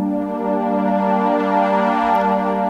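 A sustained trance synth pad plays alone, a dense stack of bright harmonic tones holding one steady chord at even loudness for nearly three seconds, with slow shimmering movement.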